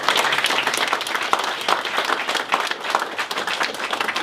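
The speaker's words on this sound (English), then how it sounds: "Big round of applause for Mayor." A crowd applauding warmly, dense clapping from many hands at a steady level for a few seconds.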